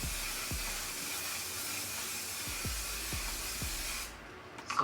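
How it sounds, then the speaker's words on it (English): One Size On Till Dawn setting spray hisses in a long, steady mist lasting about four seconds, with a few soft clicks underneath, then cuts off into near silence. "This is On Till Dawn setting spray."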